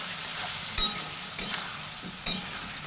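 Spice paste fries with potato and cauliflower in a pan, giving a steady close sizzle punctuated by three sharp spatula scrapes and clinks at intervals.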